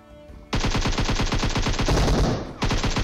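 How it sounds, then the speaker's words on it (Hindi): Automatic gunfire in the mobile game PUBG Mobile, with loud rapid bursts of shots in a fast, steady rhythm that briefly blur together, then resume after a short gap, close and dominant. "इन्होंने जो ना गोलियां चला दी"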